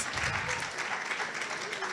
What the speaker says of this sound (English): Can we give Gia a round of applause